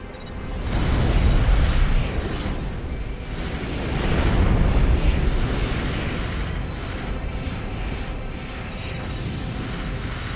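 A resource plant explodes in Armored Core for Answer, giving rolling, rumbling booms that swell twice and then settle into a sustained, heavy roar.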